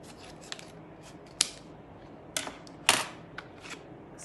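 Scissors snip open a skincare face mask packet, giving several sharp, crisp cuts spaced irregularly at close range, with quiet handling noise between them and no talking.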